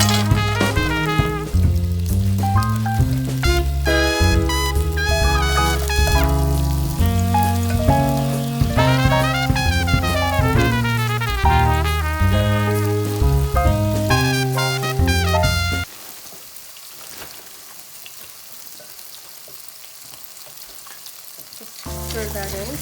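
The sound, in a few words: chopped onion frying in hot olive oil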